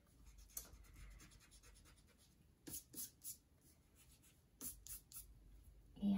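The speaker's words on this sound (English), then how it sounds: "I'm going to erase this overlapping line." A pencil line erased on paper while drawing a chickadee, faint quiet background with a few short scrubbing rubs in two small clusters, very close.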